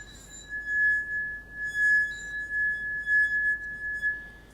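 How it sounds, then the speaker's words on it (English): A wet fingertip circles the rim of a wine glass, drawing a clear, sustained ringing tone that pulses gently louder and softer as the finger moves, alone in a quiet room. "you dip your finger in the water and then you rub the edge of the glass"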